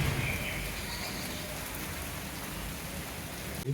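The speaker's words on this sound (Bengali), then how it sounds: "এখন বৃষ্টি হচ্ছে ভালোই বৃষ্টি হচ্ছে" Steady rain pours down, a dense even hiss with pattering drops filling the background throughout, no voices present.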